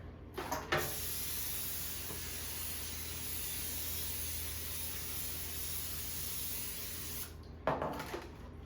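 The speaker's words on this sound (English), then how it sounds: "vegetable spray" A can of vegetable cooking spray sprays a baking pan in one long, continuous hiss lasting several seconds, bracketed by brief clicks and handling noises at the start and end.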